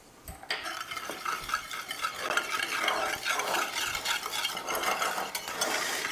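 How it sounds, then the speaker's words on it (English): Granulated sugar and ground cinnamon stirred together in a bowl for Disney World–style churros, a steady gritty scraping and swishing that runs continuously throughout, close and fairly quiet with no voices. "So we're gonna mix that together."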